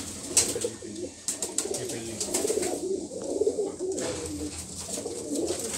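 Pigeons of an old breed cooing steadily in a loft, soft repeated throaty coos overlapping close by, with faint voices and scattered chirps in the background.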